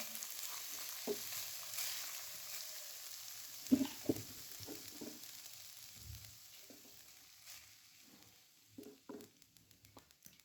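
Boiled rice tossed into a hot oiled kadhai sizzles and fries with a soft steady crackle, broken by intermittent scraping and stirring knocks of a spatula against the pan, close and alone without talk.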